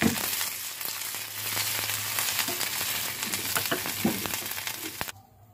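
A rice flour roti fries in an oiled pan with a constant crackling sizzle and occasional pops, ending abruptly as it quiets near the end.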